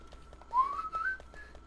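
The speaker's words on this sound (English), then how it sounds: "I shouldn't be whistling." A person whistles a short tune, faint and rising in pitch, over soft background clicks.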